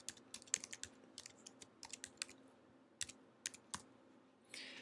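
Keys clatter on a computer keyboard as a project name is typed, a close, quiet run of separate taps in short uneven bursts with small pauses, then a soft hiss at the end and no talking.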